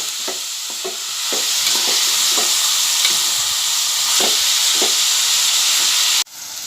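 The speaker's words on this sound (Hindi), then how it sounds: "नमक डालने से प्याज जल्दी से तली जाती है और गोल्डन हो जाती है।" Chopped onions fry with salt over high heat in a pan, giving a loud, steady sizzle with intermittent stirring scrapes throughout, cutting off abruptly near the end.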